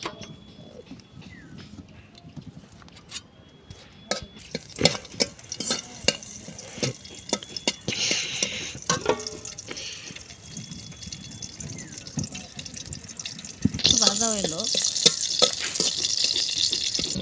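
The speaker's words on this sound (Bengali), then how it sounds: "আমার রসুনটা হালকা হালকা একটু বাজা হয়েছে" Garlic sizzles softly in a hot pan while a utensil scrapes and stirs it in irregular strokes, and the frying grows louder and busier near the end.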